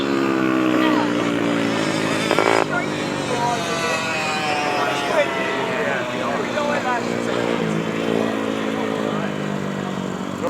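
Grasstrack motorcycles racing at an outdoor meeting, engines droning and revving in overlapping rising and falling whines as bikes pass, steady and fairly loud, with an announcer talking over the roar.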